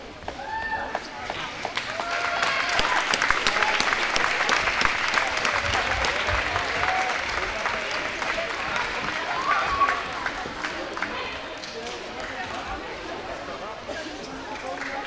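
Indoor crowd at an Akranes sports award ceremony breaking into sustained applause, rising after a couple of seconds and holding steady with scattered voices underneath before tapering slightly.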